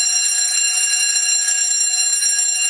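A fire alarm in a healthcare building sounds continuously, a loud shrill unbroken electronic ring that holds steady throughout with no pauses and no voices.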